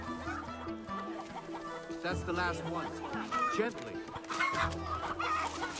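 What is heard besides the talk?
chicken clucking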